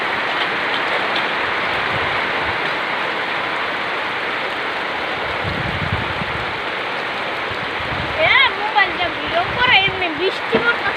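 Steady rain falls in a dense, constant hiss, with a voice briefly talking over it near the end.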